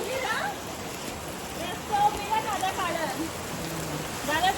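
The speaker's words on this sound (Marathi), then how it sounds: "आमच्या इथे खूप जास्त पाऊस पडतोय" Heavy monsoon rain pours down outdoors, a steady dense hiss of drops with a few splashy swells, while people talk nearby.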